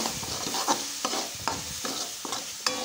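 A mixture sautéing with masala and ketchup is stirred in a pan, with evenly spaced scraping strokes repeating over a constant close sizzle and no speech.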